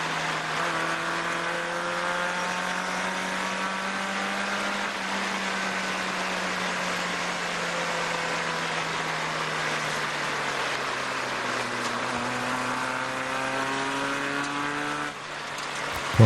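An onboard race car engine held in third gear without upshifting drones loudly and steadily through a dark night session at the Aspiring Driver Shootout, its pitch slowly rising and dipping through corners.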